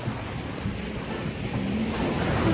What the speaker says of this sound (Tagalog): Inahampas na sila ng malalakas na alon.